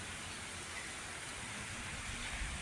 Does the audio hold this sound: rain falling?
yes